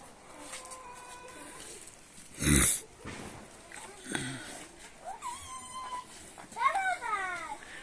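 A cat gives a few short meows amid people talking nearby, with a sharp thump partway through.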